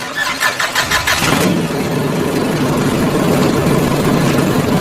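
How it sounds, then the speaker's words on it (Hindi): A car engine cranks in a rapid stuttering burst, then catches and settles into a steady, loud rumbling idle, staged as a sound effect in a haunted story. "कार स्टार्ट हो गई"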